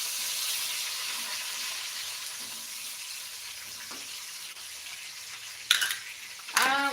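Shallots and tomatoes stir-fried in a pan for a spicy fried fish dish with basil and bilimbi, giving a steady sizzle throughout, with two sharp scraping clatters of a utensil against the pan near the end.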